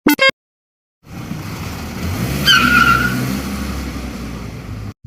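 Cartoon car driving along with a steady engine drone and a sharp tire squeal in the middle, moderately loud, preceded by a brief blip of sound and silence.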